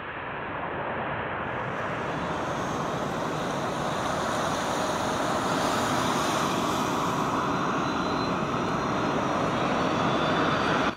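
A special flight lands at Mattala airport in Sri Lanka, its aircraft engines giving a loud, continuous, broadband roar that holds steady and swells slightly over about eleven seconds, with no voices.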